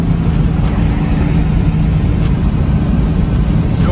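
A 1990 Chevrolet 454 SS truck cruises down the road with fresh brake lines, a steady loud engine and road rumble from inside the cab, low and continuous, with wind and faint rattles on top.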